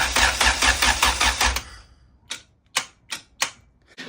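Starter on an EK Civic with a B series engine swap rattles in a rapid burst of loud clicks, then goes quiet and gives four separate sharp clicks without cranking.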